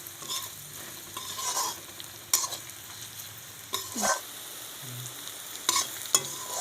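Pork frying in a pan with ginger and garlic being stirred: scraping, clattering stirs in bursts over a steady low sizzle, close and moderately loud, with no voices.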